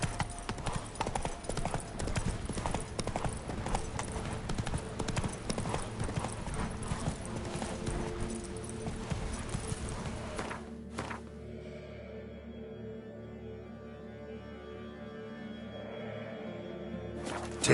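Roach, the horse in The Witcher 3, gallops in a steady fast clip-clop of hooves under game music, then the hoofbeats cut off and a quieter music bed remains.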